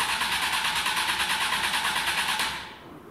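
A Mk Indy car's engine cranks on a newly fitted starter motor, a rapid, loud whirring churn that runs for over two seconds and then cuts off abruptly.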